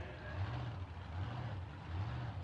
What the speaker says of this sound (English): That's the sound of a blown injected car on methanol.